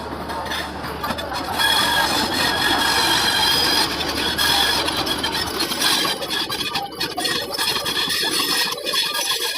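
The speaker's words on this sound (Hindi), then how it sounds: "ये है यहाँ की सबसे फेमस ट्रेन यानी कि वंदे भारत एक्सप्रेस जो अराइव कर रही है प्रयागराज स्टेशन पे।" Vande Bharat Express pulling into Prayagraj station, a steady loud rumble of rolling wheels and rail noise that fills the whole stretch, with some faint squealing and clatter on top.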